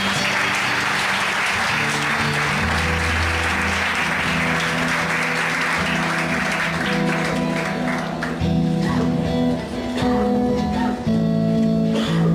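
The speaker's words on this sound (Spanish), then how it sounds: "denle un aplauso a Jesús" A church congregation applauds in a long, dense wash of clapping, with sustained keyboard or organ chords playing underneath and swelling toward the end.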